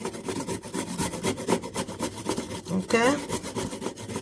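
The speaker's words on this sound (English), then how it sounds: "You have to grate your carrots like I'm doing now." Carrots being grated by hand on a kitchen grater, a steady rasping scrape repeated in quick strokes, close and fairly loud, with a brief spoken word partway through.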